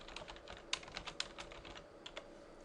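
Typing on a computer keyboard to enter a name, with a quick run of light, irregular key clicks, a few sharper taps, close and quiet with no talking.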